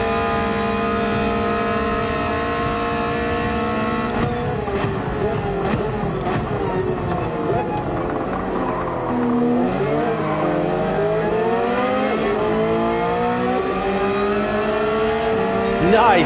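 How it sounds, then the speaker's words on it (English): Engines rev and scream as cars drag race down the straights of Brands Hatch in Gran Turismo 7, including a Toyota 86, with rising and falling harmonic whine of acceleration and gear changes under steady talking. "drag race down the straights."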